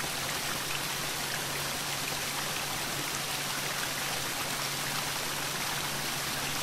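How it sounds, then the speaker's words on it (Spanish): Water gushes steadily from a geyser in the video game Jack Keane, a constant dense rushing and splashing wash with no breaks, heard alone. "Eso parece salir de un geyser."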